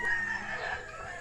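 Chickens cluck and a rooster crows close by on a rural Philippine homestead, one short burst of fowl calls with no talking.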